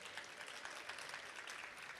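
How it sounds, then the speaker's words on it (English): Steady audience applause fills a theater stage at an annual hip hop theater festival, a dense, even wash of many hands clapping without break from start to finish, heard a little distant in the hall. "Give yourselves a round of applause for being here."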